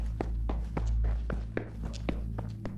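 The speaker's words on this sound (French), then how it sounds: "j'ai subitement entendu des bruits de pas de quelqu'un qui courait au rez-de-chaussée de ma maison" Running footsteps on a house's ground floor, quick regular thuds about four per second, moderately close over a low hum.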